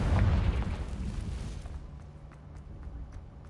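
The Confringo fire spell in Hogwarts Legacy bursts with a loud, deep boom that rumbles and fades over a few seconds, with faint crackling in the tail.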